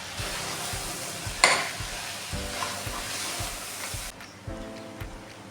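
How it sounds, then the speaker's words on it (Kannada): Spices are stirred into a frying curry mixture for saagu, giving a soft, steady sizzle with rhythmic spoon scrapes, one sharp clack early on, and a brief dip near the end. "ಇದನ್ನು ಒಂದ್ಸಲ ಚೆನ್ನಾಗಿ ಮಿಕ್ಸಿ ಮಾಡ್ತೀನಿ."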